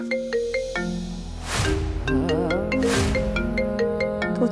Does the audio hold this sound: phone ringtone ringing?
yes